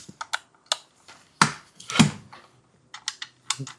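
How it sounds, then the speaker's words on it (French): Sharp dry mechanical clicks and ratchety snaps from a biscuit joiner's depth adjustment wheel in an irregular sequence, close by, with brief gaps between them. "Pour régler ta molette de profondeur. Juste au bruit, écoute."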